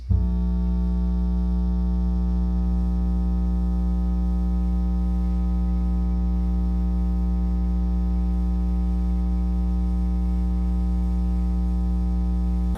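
A Pulse SP518 portable speaker plays a steady 60 Hz bass test tone, a continuous low hum with harmonic buzz that starts abruptly and holds at constant level for the whole span, with no voices.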